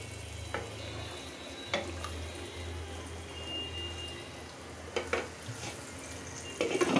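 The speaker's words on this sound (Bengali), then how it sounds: "এখন আমি ঝোলের পানিটা দিয়ে দিব।" Water for gravy poured into a pan of frying shrimp curry, producing a steady hiss and sizzle with a few sharp clinks of utensils against the pot.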